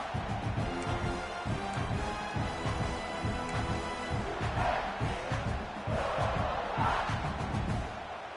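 Stadium crowd roaring and cheering during a red-zone defensive stand in the NCAA 26 football video game, a dense, sustained wall of voices that swells in waves, loud throughout.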